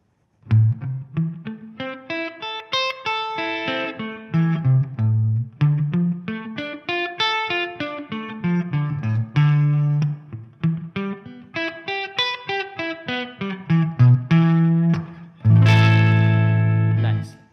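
Clean electric guitar picking steady minor arpeggios, one note at a time in an even flowing rhythm, with a few changing chord shapes and a final strummed chord ringing out.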